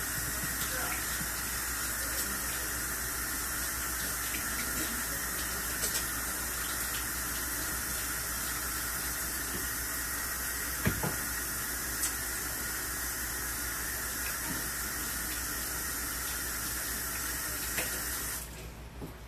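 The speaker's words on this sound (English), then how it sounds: "I have to wash my hands" Hands being washed under a running kitchen tap after shaping a large meatloaf, a steady loud hiss of flowing water that runs unbroken, with a brief knock midway, then cuts off at the end.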